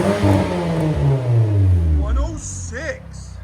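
A 2010 Nissan Altima 2.5L I4 with a straight-pipe exhaust, 2.5-inch high-flow cat and resonator, revving loudly up and down nearby, with a voice speaking briefly as the revs settle.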